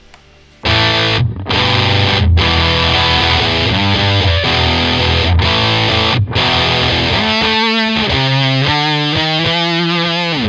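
Heavily distorted electric guitar riff played with a whammy pedal, chugging chords broken by brief cuts, then pitch-bending, warbling notes toward the end, loud and unaccompanied.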